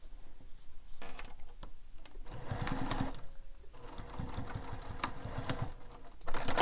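A sewing machine runs in bursts of rapid stitching as a carryall bag gets top-stitched at a longer stitch length, the needle chattering close and clear between brief pauses.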